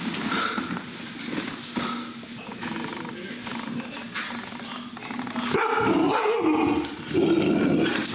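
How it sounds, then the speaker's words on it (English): Several dogs bark and growl in a noisy indoor room, with steady rough growling that breaks into louder, overlapping barks toward the end, fairly close. "Damn dogs"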